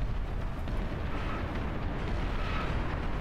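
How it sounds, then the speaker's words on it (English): Plasma cannons firing at close range in the real-time strategy game Beyond All Reason, a dense, continuous barrage of heavy overlapping booms and rumbling blasts that stays loud throughout. "I hear multiple plasma cannons firing near point blank."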